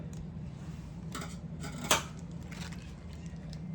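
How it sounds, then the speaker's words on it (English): Scissors snip the tip off a filled piping bag while making lip gloss, a single faint crisp cut against a quiet room with no talking. "So we're just gonna cut the tip off."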